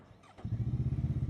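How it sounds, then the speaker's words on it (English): Voge CU525 motorcycle engine starting: a brief starter whir, then the engine catches and settles into a steady, close, pulsing idle. "let's start the bike. Let's listen to the engine, shall we?"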